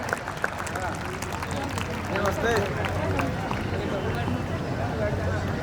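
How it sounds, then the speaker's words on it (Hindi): A crowd at the Shakti Swarupa Samagam 2024 gathering in Raigarh applauds to encourage children, with steady, dense clapping and voices running throughout. "सभी अतिथियों से निवेदन है कि जोरदार तालियों से बच्चों का प्रोत्साहन बढ़ाएं।"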